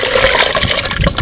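Water poured into a cooking pot for sugar syrup, a loud, close gushing stream splashing continuously for about a second with no voices.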